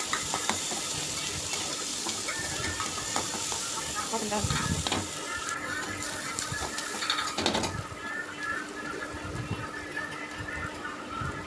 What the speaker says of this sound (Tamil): அதை நல்லா வதக்கிக்கலாம்